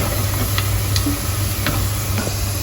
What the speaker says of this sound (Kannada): ಈರುಳ್ಳಿ ಇಲ್ಲಿ ಚೆನ್ನಾಗಿ ಫ್ರೈ ಆಗ್ತಿದೆ.